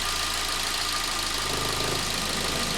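Car engine idling steadily during a battery draw test with the high beams and blower motor on, a close, continuous low rumble with a constant hum and no pauses.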